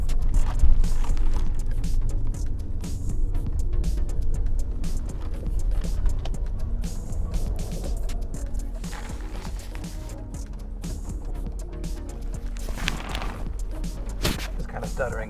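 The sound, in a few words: old car engine stuttering while driving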